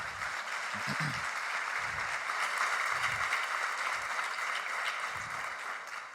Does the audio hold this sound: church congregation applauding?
yes